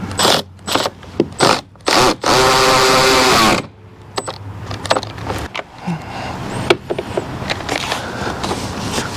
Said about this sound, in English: we tighten the bolts on our air box